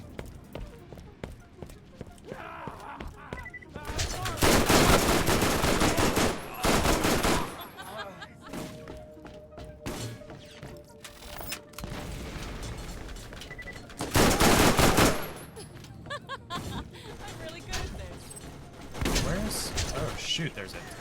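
Turret gunfire in the Borderlands video game comes in loud, dense bursts, two long volleys with shorter rattles between, over constant game noise and no talking.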